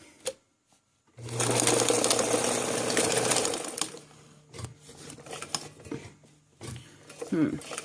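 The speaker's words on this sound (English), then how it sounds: "now watch a buttonhole being made" A vintage Necchi sewing machine stitches a buttonhole with a fast, steady mechanical whir and rhythmic clatter for about three seconds, then briefly restarts while a person speaks.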